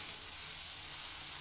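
Soya chunks (meal maker) frying with onions in a pan give a steady, even sizzle and hiss, close and moderately loud, with no talking.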